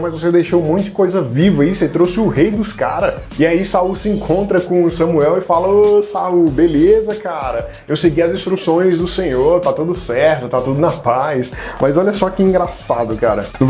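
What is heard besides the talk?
No everyday noise stands out behind the speech.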